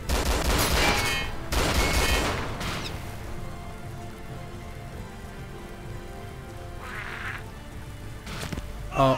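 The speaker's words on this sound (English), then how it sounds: "He's shooting at me again." Gunfire in the video game DayZ arrives as loud, crackling bursts in the first few seconds, then a quieter stretch of ambient noise before a shorter burst and a sharp final crack.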